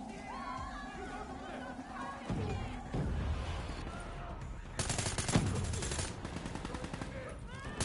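Dense gunfire and crashing effects from the video game Call of Duty Black Ops 3, with a thick, continuous barrage that swells louder in the second half, bursts layered over one another without pause.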